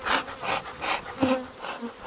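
Honeybees buzz loudly close by at an opened hive, agitated and aggressive, the drone swelling and fading in quick pulses as insects fly past.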